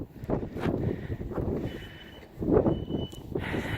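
Reversing beeps from a Kubota skid steer on a horse property, a steady repeating tone over rumbling engine and wind buffeting the microphone.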